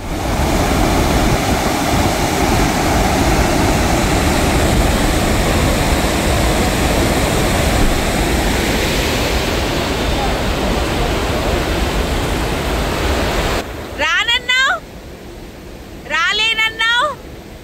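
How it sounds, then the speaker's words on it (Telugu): Loud, constant roar of rushing water pouring over the spillway of the full Dindi reservoir during a cyclone, broadband and unbroken, then cut short as a voice speaks briefly near the end. "ఇది డిండి రిజర్వాయర్ ఇదిగోండి ఫుల్ నిండిపోయి ఇక్కడ కూడా వాటర్ ఎక్కువైపోయి"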